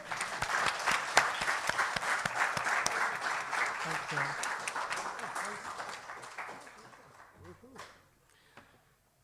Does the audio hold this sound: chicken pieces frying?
no